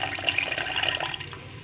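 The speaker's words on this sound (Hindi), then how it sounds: "हाफ प्याली पानी ऐड करें" Half a cup of water poured into a pan of radish curry being cooked village style, a continuous splashing pour heard close for under two seconds, with no talk.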